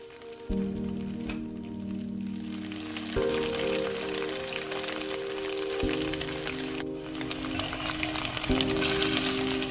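Tofu fries in a pan with a steady bright sizzle and crackle, while a sustained tonal hum shifts pitch in steps underneath. It is close and fairly loud with no talk.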